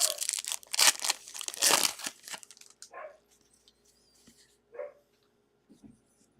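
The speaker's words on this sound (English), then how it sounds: "now she starts barking again" A dog barks a few times amid crinkling and rustling noises during a trading card pack opening, followed by quieter scattered yips and sounds with pauses between them.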